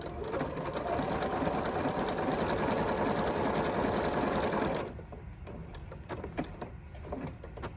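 Sewing machine running steadily at speed while stitching around an appliqué, a loud continuous mechanical whir that stops after about five seconds, leaving faint clicks and handling noises.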